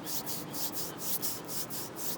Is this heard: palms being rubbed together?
yes